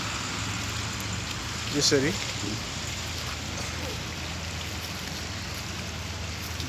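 Hail and rain driven by wind over Kathmandu make a steady, dense patter that fills the whole stretch, with one short spoken word briefly rising over it early on.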